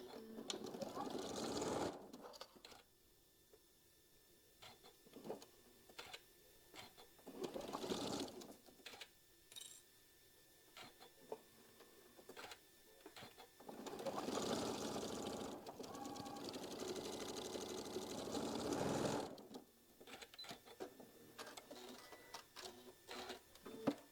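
Quilt block being stitched on a sewing machine, heard as several bursts of rapid, rhythmic mechanical whirring separated by pauses, with a voice talking between runs.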